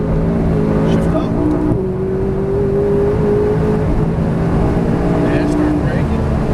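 A McLaren 570S accelerating around a race track, engine drone heard from inside the cabin with rising pitch as it pulls through a gear, loud and steady, with a voice talking over it.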